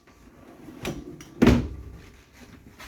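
A large drawer in a 2019 Grand Design Reflection 367BHS camper trailer slides and thumps shut, a softer knock followed by a louder close bump, with quiet room noise around it.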